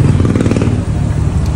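A Honda Click scooter with a stock-look power pipe exhaust idles and burbles loudly up close, a throaty pulsing engine note lasting about a second and a half.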